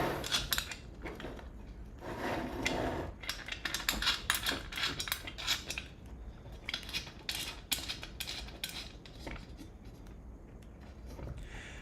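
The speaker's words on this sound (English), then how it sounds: "let's get a close-up of this bolting action" Metal parts clink and bolts are tightened with hand tools while assembling a Ratrig V-Minion 3D printer kit: close, busy ratcheting and scraping clicks in irregular bursts, with no talking.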